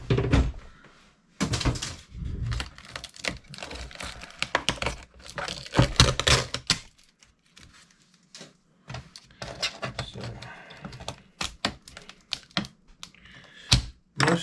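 Laptop keyboard pried and pulled up during scrapping: a quiet, irregular run of plastic clicks, snaps and soft knocks, close by, with brief pauses between bursts and no talking.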